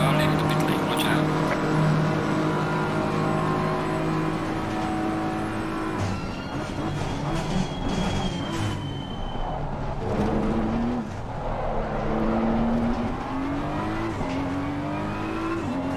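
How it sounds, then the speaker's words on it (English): A race car pulls out of the pit lane at Monza in a racing video game, its engine droning steadily at high revs with shifting pitch while other cars whine past, loud and continuous throughout. "There's a car leaving the pit lane"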